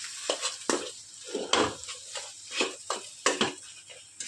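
A spoon works masala stuffing for stuffed tomatoes in a pan, giving irregular scraping strokes and light metallic clinks with a soft sizzle beneath, close and fairly quiet, with no talk.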